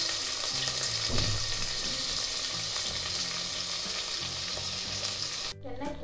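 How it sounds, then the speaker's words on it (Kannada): Onions frying in hot oil with spices in a pressure cooker, a dense, continuous close sizzle with stirring noises, cutting off abruptly near the end. "ಚೆನ್ನಾಗಿ ಫ್ರೈ ಆಗಿದೆ ಈರುಳ್ಳಿ"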